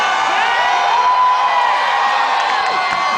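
A large crowd of Baltimore Ravens fans cheering, whooping and shouting at an outdoor Super Bowl XLVII send-off rally, a loud, dense, continuous roar with high excited voices throughout.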